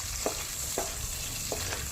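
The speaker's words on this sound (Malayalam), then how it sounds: "അതുവരെ ഇത് ചട്ടിയിലിട്ട് നന്നായി ഇളക്കുക." Onions sautéing in a pan for a spicy Kerala mackerel curry, a steady close sizzle with a few distinct scrapes of stirring at regular intervals, no voices.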